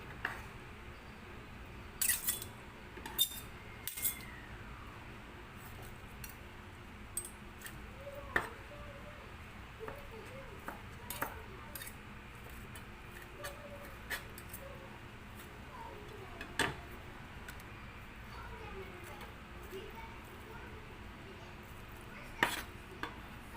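Meat being cut into small pieces for Goan sorpotel, heard as quiet, scattered knife taps and clinks against a board and dish, irregular and close, with faint background noise and no talking.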